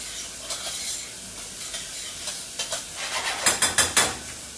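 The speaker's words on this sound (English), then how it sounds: "just going to get my onions stirred" Onions sizzle in a pan as they are stirred for chicken parmesan, with a soft frying hiss building into a run of louder, rhythmic scraping strokes near the end.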